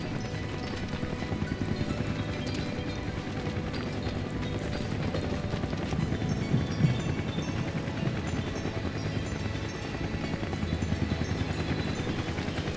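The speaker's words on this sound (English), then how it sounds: "Oh boy, Shinra helicopter." A Shinra helicopter in the video game Final Fantasy VII Rebirth gives a steady, dense rotor-and-engine drone that fills the scene at even loudness throughout, with busy game effects layered over it and no talk.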